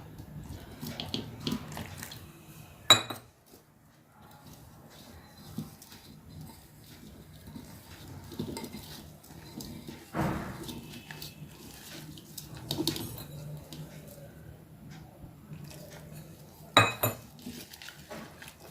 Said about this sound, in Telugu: గడ్డలు గడ్డలు లేకుండా మంచిగా కలుపుకోవాలి